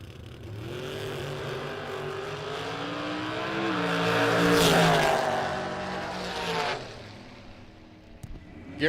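At a drag strip, a dragster and a 1927 Ford Roadster launch and race, engines swelling into a loud harmonic roar that peaks and recedes into the distance, with a brief sharp burst near the end.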